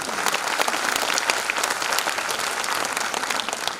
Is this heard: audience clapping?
yes